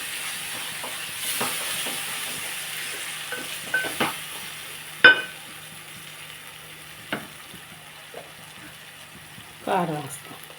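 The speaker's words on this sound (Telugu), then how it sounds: "ఇదిగోండి ఒకసారి కలుపుకొని మనం కారం వేస్తాను" Spoon stirring a tomato and dried-prawn curry in a pan over a soft, steady sizzle: a few scattered scrapes and clinks, near and fairly quiet, then one longer scraping stir at the end.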